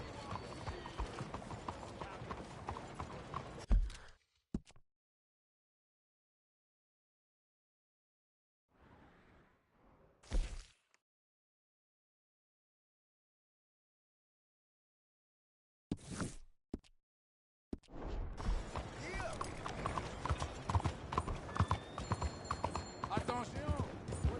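Horse hooves clip-clopping at a steady rhythm in the video game Red Dead Redemption 2, with people talking over them, broken by long stretches of silence and a couple of sharp bursts.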